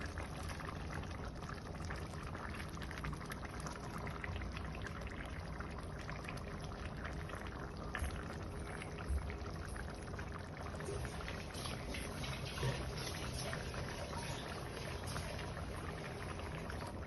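Thick ground coconut and fennel paste being poured and stirred into a simmering chicken curry pot, a steady wet sloshing with faint bubbling underneath, no voices.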